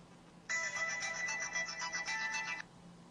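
A mobile phone ringtone plays alone for about two seconds, a bright electronic melody of rapid repeating notes that starts and stops abruptly over quiet background.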